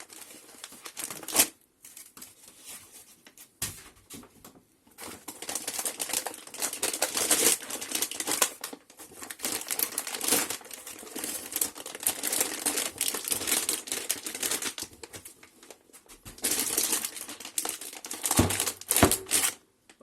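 Anti-static plastic wrapping crinkling and rustling while an Antminer S9-SE cryptocurrency mining machine is unboxed, with bursts of crackling handling noise and brief quiet pauses.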